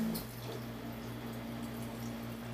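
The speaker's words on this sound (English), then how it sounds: "So I got the dishwasher going." A household dishwasher runs with a steady wash of spraying water, a continuous close hiss and low hum with faint dripping, no voices.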